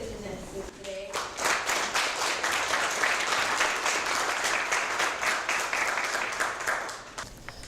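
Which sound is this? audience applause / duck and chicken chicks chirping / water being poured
audience applause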